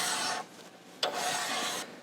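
A counterbore cutting tool is turned by hand in a Caterpillar C15/3406 engine block, giving close, dry scraping rasps in two strokes separated by a short pause.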